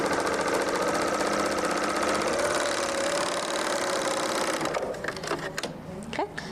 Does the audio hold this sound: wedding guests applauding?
no